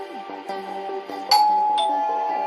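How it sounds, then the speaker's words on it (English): A wireless home doorbell chimes with a clear two-tone ding-dong, loud and close, the second tone ringing out and slowly decaying. "The system has a built-in wireless bell you can install anywhere at home."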